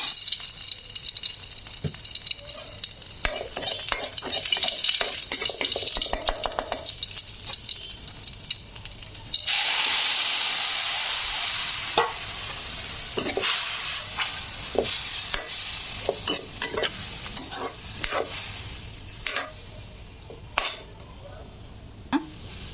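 Cumin seeds frying in hot oil in a home kitchen, a bright steady sizzle, then greens tipped into the pan raising a louder crackling hiss, followed by stirring and scraping clatter.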